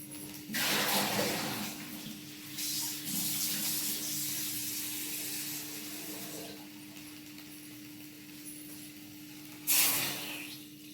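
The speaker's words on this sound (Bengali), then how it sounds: "আর এবার এর মধ্যেই আমি দিয়ে নেব সামান্য জল" A small amount of water is poured from a tap into a pan of already-boiled vegetables in a home kitchen, a steady running splash lasting several seconds with a brief louder burst near the end.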